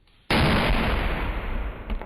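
A detonation wave engine test firing: a sudden, enormous blast erupts and sustains as a roaring, broadband rumble for nearly two seconds, then begins to fade with a faint crackle.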